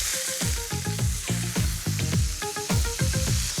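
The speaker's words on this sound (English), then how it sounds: "I love haddock because you can watch it cook. I can see there's some brown, crispy bits." Haddock frying in a pan, a dense, loud crackling sizzle up close with bursts of spattering and occasional scraping or stirring, continuous throughout.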